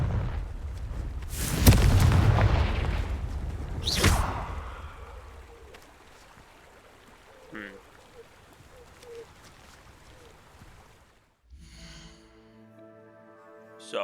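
Confringo fire-spell blasts in Hogwarts Legacy, with two loud booming bursts early on and a smaller pop later, fading into quiet ambience before a tonal game sound at the end.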